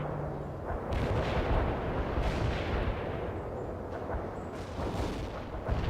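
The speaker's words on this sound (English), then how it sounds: "Could use some artillery support, over. Roger that, Bannon. Fire mission sent" Artillery fire-support strike in the World in Conflict video game: heavy, rumbling blasts land in quick succession over a continuous roar, with several louder impacts standing out and no voices.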